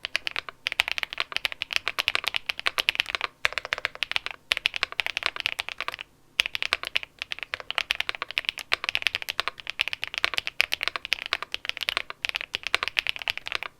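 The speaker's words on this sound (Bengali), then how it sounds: "এই কিবোর্ডটার একটা টাইপিং সাউন্ড টেস্ট আপনারা শুনে আসেন" Rapid typing on a mechanical keyboard, a dense run of crisp, clacky keystrokes with short pauses between bursts, close and alone with no talking.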